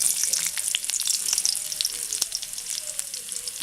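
Sliced onion with popped mustard seeds, dried red chilli and curry leaves frying in hot coconut oil for papaya thoran: a steady, close sizzle with scattered sharp crackles and pops throughout.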